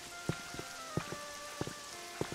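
Rain in the video game Pokemon Pokopia, a soft continuous patter with scattered drip taps and a faint tonal game ambience underneath, quiet and evenly spread.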